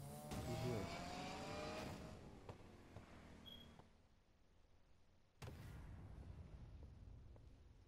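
A BMW engine in the Need for Speed Payback racing game roars loudly at first, then fades to a lower rumble. A fresh burst of engine noise follows near the end, with no talking.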